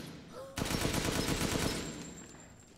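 Sustained automatic gunfire in Resident Evil Village, a dense rapid burst of shots that starts abruptly, stays loud for about a second and a half, and then tapers off.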